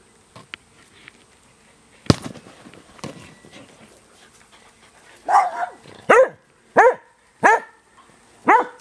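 Dogs, a collie and a spitz, barking in a run of sharp, evenly spaced barks, fairly close, after a few scattered clicks and knocks.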